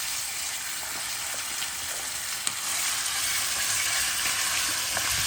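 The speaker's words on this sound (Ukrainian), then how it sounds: "на великому вогні ми зараз це все помішую, жарю швиденько" Chopped meat sizzles loudly and steadily in about two spoons of oil in a pan over high heat, a continuous bright crackle with occasional stirring clicks.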